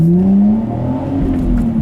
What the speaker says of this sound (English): Give it a little acceleration.